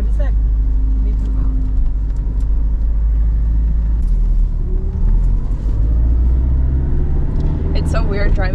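Nissan 240SX with an SR20DET engine driving, a steady low engine and road rumble filling the cabin, with faint squeaks and clicks on top and a brief rise near the end.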